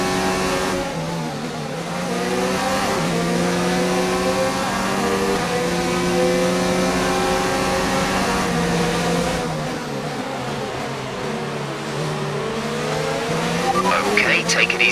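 Race car engine during the Bahrain Grand Prix in a racing game, a steady high-pitched whine rising and falling through gear shifts and throttle changes, loud and continuous, with a team radio voice talking over it.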